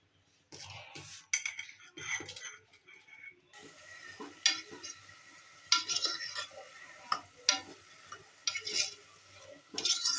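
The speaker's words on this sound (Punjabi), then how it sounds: "ਦਾਲ ਨੂੰ ਤੜਕਾ ਲਾਉਣ ਲੱਗੇ" Spices sizzle softly in hot oil while tempering dal, a spoon stirring and scraping against a metal pan in irregular clinks and taps.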